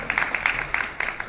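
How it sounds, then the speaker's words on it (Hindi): An audience at a welcome event in Rishikesh claps in quick, fairly rhythmic bursts at moderate volume, with a faint murmur of the crowd beneath. "तालियां बजाते रहिए"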